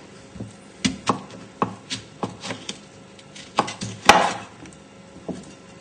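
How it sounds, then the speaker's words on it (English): Knife chopping through mango flesh around the stone on a board, a dozen or so crisp, uneven chops with a louder scraping cut near the end, close up. "Just chopping around the stone."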